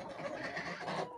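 A hen being inspected for laying gives soft, low clucking close by, a faint murmur of fowl sounds under a hushed background.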